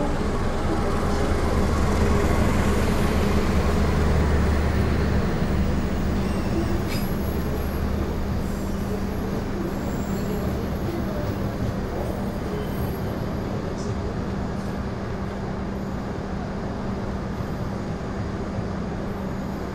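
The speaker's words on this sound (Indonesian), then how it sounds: "Yang sudah masuk di jalur 2 adalah rangkaian kereta" An Argo Cheribon executive-class train rolls into track 2 at a station, a steady low rumble of wheels and carriages that stays loud and constant throughout, with a faint high whine partway through.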